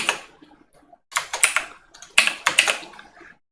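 A computer keyboard is typed on while entering Python code for a linear regression, with rapid clicking keystrokes in several close, distinct bursts separated by brief pauses.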